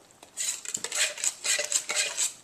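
A metal utensil scrapes and clinks against a pot while chili is stirred, a series of close, rhythmic scraping strokes at moderate volume with no voices.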